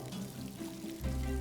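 Water is poured onto soil, a soft continuous trickle that swells into a heavier, fuller pour partway through, heard close and alone.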